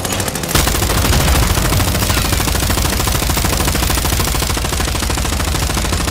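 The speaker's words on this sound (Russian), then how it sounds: "Кто-то там стреляет еще." Sustained automatic gunfire from Warzone 2 DMZ, a dense, loud rattling stream of rapid shots that starts after a brief lead-in and carries on without a break.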